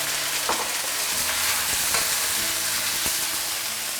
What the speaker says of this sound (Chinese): 这个呢是新鲜的，所以我就采用生煸的方式